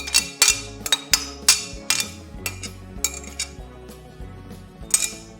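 A spoon clinks and scrapes against a pot while homemade cat food of chicken, tuna and potato is stirred, a rapid series of sharp metallic taps, close and clear, without talk.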